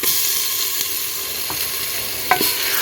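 A loud, steady sizzle of garlic and chili paste frying in hot oil, with a few faint scrapes of a spoon stirring the pan.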